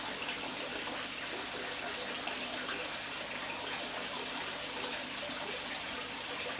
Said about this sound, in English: I think the sound of the water coming in from both directions is really rather soothing